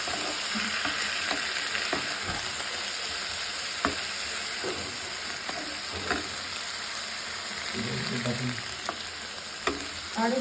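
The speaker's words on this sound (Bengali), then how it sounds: "এটাকে আমি ভালো করে নেড়ে নেব।" Radish and coriander leaves frying in a pan while being stirred, a steady soft sizzle with intermittent scraping and clinking of the spatula, close and fairly quiet.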